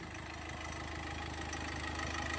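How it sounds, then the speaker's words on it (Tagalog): A car engine run as a homemade generator idles steadily, a constant low mechanical hum with a faint regular pulse, moderately quiet and unbroken, with no talking. "Ginawa ko siyang generator."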